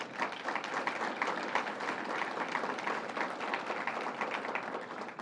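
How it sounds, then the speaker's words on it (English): Steady applause from a large crowd, dense and continuous throughout with no voices standing out. "So give yourselves a round of applause."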